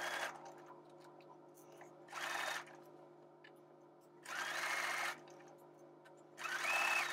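Sewing machine stitching a seam in fabric: three short whirring bursts of stitching, each a second or so long, separated by quiet pauses with a faint hum underneath.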